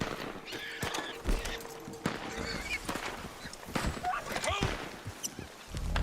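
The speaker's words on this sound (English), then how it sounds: "I'm going to get my horse." Hoofbeats of a horse in a video game, with scattered gunfire, clanking effects and a player talking over the action.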